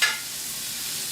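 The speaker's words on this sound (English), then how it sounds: "once that butter is completely melted and I've kind of tossed the green beans in it" Green beans tossed in melted butter in a hot pan, a brief soft sizzle and stir that fades quickly to a low steady hiss, close by with no talk.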